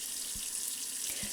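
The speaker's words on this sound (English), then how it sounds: "please wash your beans. And that's what I'm doing right here. I am washing." Dry pinto beans are washed under running tap water, a steady close splashing hiss of the faucet stream with a couple of soft thuds as the beans and container shift.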